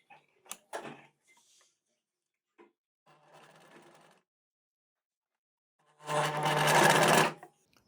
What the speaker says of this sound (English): Better go and finish sewing this up.